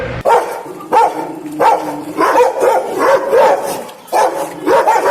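A dog barks repeatedly in short, loud bursts, some with whiny yips, close by and with no talking.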